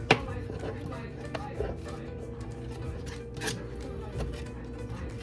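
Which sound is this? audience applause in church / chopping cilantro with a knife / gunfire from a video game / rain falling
chopping cilantro with a knife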